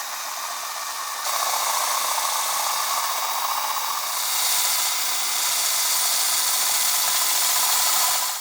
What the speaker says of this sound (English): So I went ahead and used a Forstner bit to try and get a better looking hole.